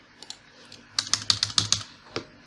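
Typing a short name on a computer keyboard: a quick burst of crisp, close key clicks in an uneven rhythm, with a few isolated taps before and after.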